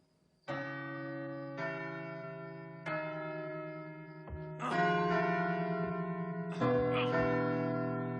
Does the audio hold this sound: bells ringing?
yes